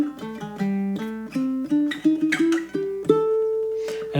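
A baritone ukulele plays the two-bar ending of a funk song, a run of short plucked notes and chords that settles into one sustained ringing note, close and clear with no talking.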